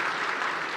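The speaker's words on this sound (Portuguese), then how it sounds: "Uma salva de palmas pro Mateus." A studio audience breaks into steady, dense applause during a Brazilian talk show, loud and continuous with no voices over it.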